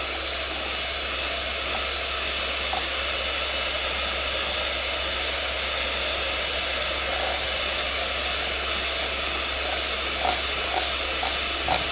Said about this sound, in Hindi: इसको हम अच्छे तरीके से ब्लेंड कर लेंगे ताकि ये थोड़ा फ्लफी और एयरी हो जाए।